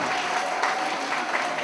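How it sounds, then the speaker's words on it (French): A roomful of people clapping at a rally supporting the Wê people in Turin, a short dense burst of applause at moderate distance with no speech over it. "Applaudissez-vous."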